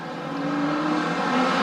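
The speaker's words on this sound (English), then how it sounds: "Up and running, and away they go, and Aaron Barnes gets a pretty good start," Street stock race cars get underway at Gunnedah Speedway in New South Wales, their engines blending into a loud, steady droning roar that builds slightly over the short stretch with no talk.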